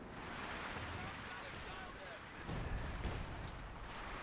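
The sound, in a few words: explosions and artillery fire in a strategy video game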